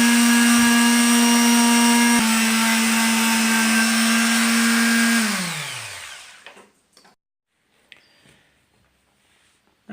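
A wire buffing wheel on a bench grinder works over a blacksmith hammer, a steady loud whirring hum that winds down and fades to near silence, followed by a few faint clicks.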